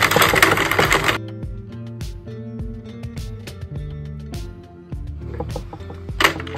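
A Sentro knitting machine is cranked while knitting a cropped tank top, giving a steady series of plastic clicks and clacks that follow a rhythmic pattern, close and fairly quiet, with a louder rustle at the start.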